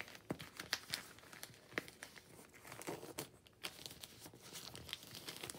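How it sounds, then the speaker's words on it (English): Newspaper folded by hand into a seed starting pot, with quiet close crinkling and soft crumpling rustles in irregular bursts and no voices. "we're just going to fold this crease up to the top."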